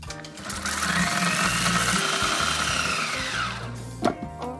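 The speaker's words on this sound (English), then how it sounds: "Put that in the blender." Blender blitzing dates and espresso into a paste for a vegan chocolate mud cake, a loud steady whirring motor close by for several seconds before winding down with a few clunks.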